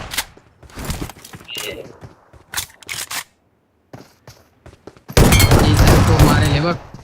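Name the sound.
gunfire in a video game shootout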